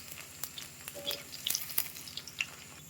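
Street-style chicken 65 pieces deep-frying in hot oil, a steady close sizzle and bubbling crackle with scattered sharper pops, fairly faint and with no voices.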